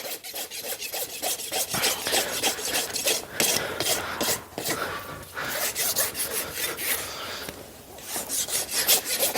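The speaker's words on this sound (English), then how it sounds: "As you can see, the majority of my rasping has been done on the front part of the foot." A farrier rasps a dressage horse's front hoof with steady, close, rhythmic scraping strokes that continue throughout with only brief pauses.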